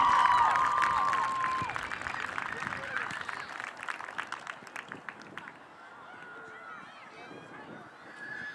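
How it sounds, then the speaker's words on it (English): Graduating girls soccer class of 2023 gets a round of applause from players and families at a ceremony, with a dense wash of outdoor clapping and crowd noise that fades toward the end. "let's give our Monica Girls Soccer Class of 2023 one last round of applause"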